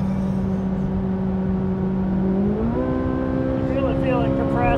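A Corvette Z06 pace car with a flat-plane crank V8 runs at speed on the Indianapolis Motor Speedway, a loud, steady engine drone whose pitch steps up as it pulls harder, with voices faintly in the background.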